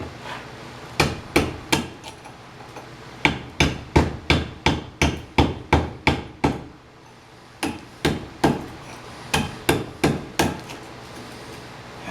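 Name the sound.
hammer and chisel cleaning river finds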